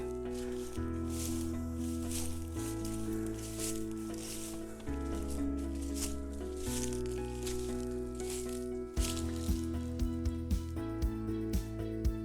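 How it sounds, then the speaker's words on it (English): Footsteps crunching through dry leaves on wooded vacant land in Pierson, Florida, a continuous rustling under a sustained musical bed, with several sharper crunches near the end. "I apologize for the noise of me crunching through the leaves here"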